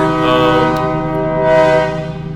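A train horn blares with a steady chord-like tone that rises again near the end, over rolling train rumble, loud and close with no voices.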